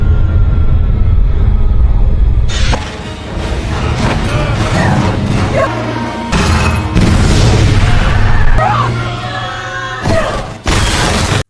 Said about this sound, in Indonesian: Sam terkena bom yang Gradov luncurkan